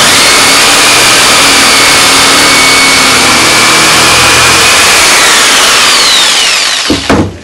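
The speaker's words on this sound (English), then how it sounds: "I found that jigsaw rather small for this heavy wood, so I've gone to a much bigger saw now" A large power saw cuts through heavy yew wood, its loud motor whining steadily for several seconds before winding down and stopping near the end.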